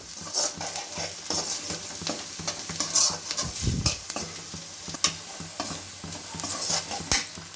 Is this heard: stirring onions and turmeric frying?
yes